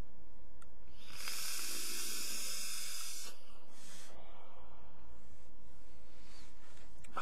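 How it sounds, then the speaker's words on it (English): The coil of a UD Bellus RTA vaporizer, fired at about 60 watts, gives a loud, close sizzling hiss for around two seconds, followed by fainter breathy hissing and quiet puffs. "I'm getting a little sizzle afterwards, but that's no big deal"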